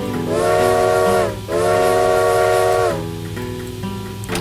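Two long, loud steam train whistles from the game The Legend of Zelda: Spirit Tracks, each a rich chord with a hissy edge, followed by softer chugging train noise.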